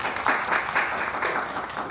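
An audience in a hall at a medical communication talk applauds, with brief, dense, steady clapping at an even level and no voices.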